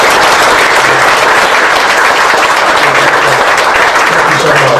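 A room full of people claps steadily for the cooks and servers at a military tribute dinner, dense sustained applause with some voices mixed in throughout.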